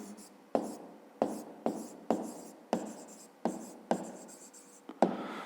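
Handwriting for a fifth-grade maths exercise, with pen strokes tapping and scratching close by in a regular run of about nine short bursts, and speech faintly present underneath.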